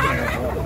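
Chickens at a poultry market cluck in a steady, busy clatter, close and fairly loud, with crowd murmur and voices blending through the whole short stretch.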